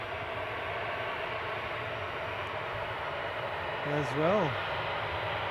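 A WestJet airplane departs, a steady distant jet roar under a short stretch of talking near the end.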